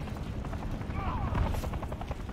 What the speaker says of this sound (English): Can I take out the helicopter with this?